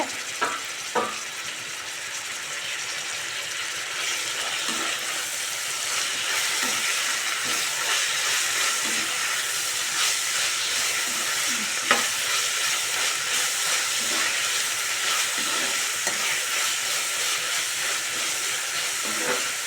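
Coconut chutney ingredients frying in a pan, a bright hissing sizzle that holds steady throughout with occasional light stirring clicks, close and alone without any voice.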